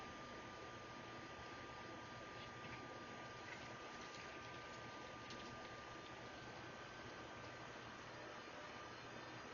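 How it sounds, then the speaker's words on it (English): Coolant pressure flush system running while a chamber reamer cuts a Tikka 22-250 barrel being converted to 22 Creedmoor, giving a steady, broad pump-and-fluid hiss with a faint high whine throughout, no talk. "as soon as it starts cutting, I'm going to turn on my pressure flush system"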